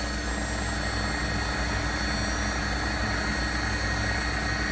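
Simulated Leonardo AW109 SP helicopter in flight in the X-Plane 12 simulator, a steady, loud rotor and turbine drone with constant high whine running unbroken throughout, no talk.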